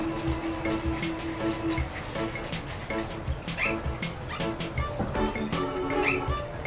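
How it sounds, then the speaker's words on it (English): A Nintendogs dog barks a few times amid a busy mix of game sounds and a Furby's motors, with running water and scattered clatter throughout. "yeah, she's barking at me."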